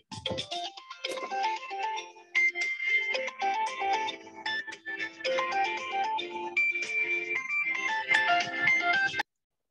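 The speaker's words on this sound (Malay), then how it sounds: "Sekejap, ada orang telefon pula." Mobile phone ringtone signalling an incoming call during a maths lesson, a steady melodic electronic tune playing continuously and fairly loud for about nine seconds, then stopping.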